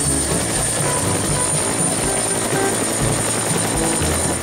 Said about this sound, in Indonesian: lihat lagi teman-teman, ini ada helikopter